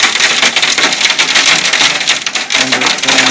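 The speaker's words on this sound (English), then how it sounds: "First time in Melbourne, big hailstones with big damage." Big hailstones and heavy rain pounding down in a severe Melbourne thunderstorm, a loud dense clatter of hard impacts over a rushing downpour, continuous and close.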